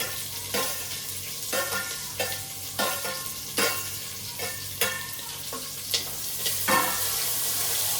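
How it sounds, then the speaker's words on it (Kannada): Chopped onions frying in a pan for a Mandya style uppsaru, with a steady loud sizzle and a regular scrape of stirring about once a second, close up with no talk. "ಇದನ್ನು ಫ್ರೈ ಮಾಡ್ಕೊಳ್ಳಿ."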